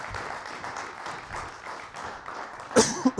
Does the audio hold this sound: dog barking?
no